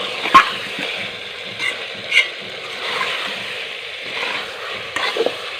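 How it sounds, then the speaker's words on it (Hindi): Potatoes frying in oil in a pan, kept under a steady soft sizzle and hiss, broken by a few sharp clinks and scrapes of a spoon stirring them; close by, with no talk. "आलू को थोड़ी देर हम इसमें भून लेंगे।"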